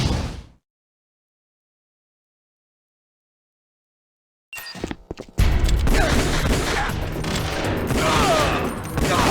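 Gunfire in Metal Gear Solid The Twin Snakes: after a long silence, a few sharp scattered shots lead into a sustained loud fusillade of rapid overlapping fire that continues to the end.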